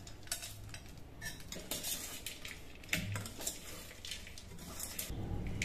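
Oli bhel, a wet Pune-style puffed rice snack with peanuts, being tossed with a spoon in a bowl, giving repeated light clinks and scrapes in an uneven rhythm, close and moderately quiet, with no talking.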